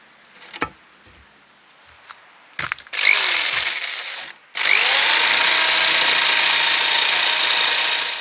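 A power drill bores holes in wood while a spoon mule vise is being built. A few small knocks come first, then two loud, close, sustained whining bursts of drilling.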